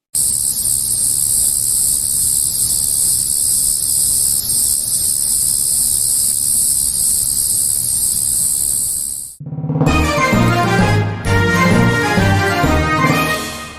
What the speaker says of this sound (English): Crickets are small insects known for their chirping sounds.